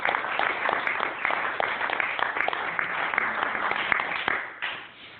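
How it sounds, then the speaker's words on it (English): An audience at an AA speaker meeting applauds a speaker, a dense, continuous patter of many hands clapping that holds steady, then starts to thin near the end. "Give him a round of applause."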